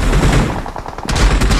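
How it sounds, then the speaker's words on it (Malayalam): Heavy gunfire in PUBG during a Transformers Showdown match: loud, close bursts of rapid shots, briefly thinning out before another dense volley. "അടിച്ചെടുത്ത് ഭയങ്കര വെടിയാണ്"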